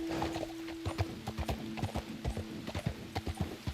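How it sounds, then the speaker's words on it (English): Rhythmic clip-clop of horse hooves trotting at a steady pace, close and clear, with a low tonal hum in the background. "Come on, horse."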